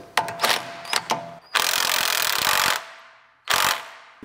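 Pneumatic impact tool driving wheel studs into the hub of a BMW E46 M3 CSL, heard as several short bursts followed by a long steady whir of about a second, then another brief burst, close and loud.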